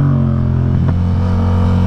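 A 2016 Yamaha MT-07 in Night Fluo livery rides along with a steady, loud low engine drone and road rumble, holding an even note throughout with a brief surge near the middle.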